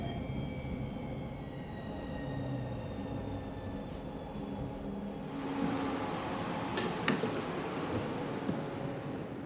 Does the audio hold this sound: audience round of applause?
no